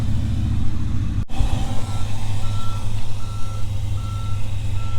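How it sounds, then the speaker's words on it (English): A Ford F350 pickup, left unfinished for twenty years, runs with a heavy low engine rumble while its backup alarm beeps steadily in faint, evenly spaced tones. "It's got a backup alarm."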